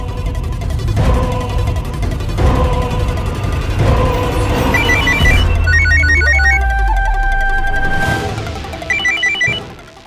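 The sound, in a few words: phone ringing on an outgoing call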